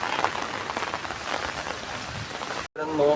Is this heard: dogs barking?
no